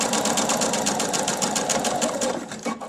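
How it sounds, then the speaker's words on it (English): A home sewing machine stitches fabric and elastic for a face mask, its needle chattering in a fast, steady close-up run that slows just before the end. "Reverse your machine over the elastic again, and then go forward off of your fabric."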